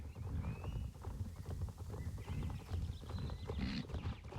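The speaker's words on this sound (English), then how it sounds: "Let's get down here to the horses." Horse hooves clip-clopping in the Star Stable Online video game, a quick, steady gait with a dense rumbling footfall under faint ambient tones and a brief whinny-like sound near the end, no talking.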